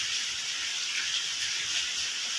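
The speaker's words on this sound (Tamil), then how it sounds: "பாருங்கள் எவ்வளோ அழகாக மழை பெய்யுது." Steady rain falling outdoors, an even, dense hiss that holds at a constant level throughout with no voices.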